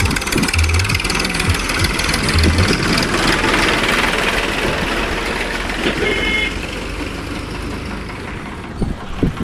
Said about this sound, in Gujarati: જો આ અમારા સંઘનું ટ્રેક્ટર હાલ્યું હવે.